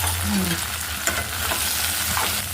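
Drumsticks (moringa pods) frying in oil with dry red chilli powder and turmeric give a steady, close sizzle with a few stirring scrapes and no talk.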